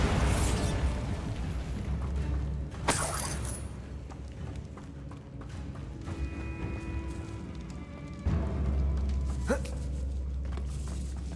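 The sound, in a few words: Bombarda spell explosion, Hogwarts Legacy video game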